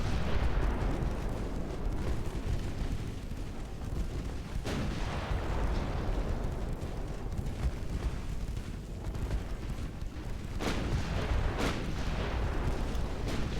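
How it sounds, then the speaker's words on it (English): Naval battle sounds in Ultimate Admiral Dreadnoughts, with a torpedo detonation among deep, rumbling booms and blasts over a constant low roar, a few sharper bursts standing out, loud and without talk. "Torpedo detonation, that's nice."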